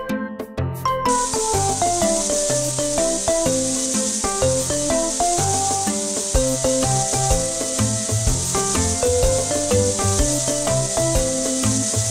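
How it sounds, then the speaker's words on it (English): A steady hissing spray of water rinses foam off a puppy in a kids' pet-care game, running continuously beneath bright, bouncy music, level and unbroken throughout. "Then, please rinse the foam away with the water."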